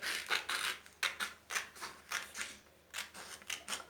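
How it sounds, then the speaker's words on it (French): Scissors cut through paper in a paper craft, with steady rhythmic crisp snips and rustling strokes about twice a second, close and alone without talk. "C'est pour cela que j'ai pris les ciseaux. On va le couper."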